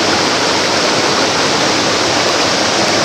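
Creek water rushes through a rocky canyon at good flow, a loud, steady broadband roar close by with no voices.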